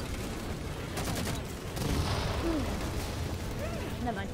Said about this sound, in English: Then why are they shooting? Oh, they're shooting.